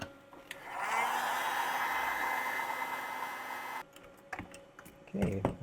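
Heat gun shrinking heat shrink tubing on a DIY battery pack, a steady blowing hiss that runs for about three seconds before cutting off, followed by a few clicks and handling knocks nearby.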